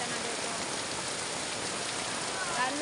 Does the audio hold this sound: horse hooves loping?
no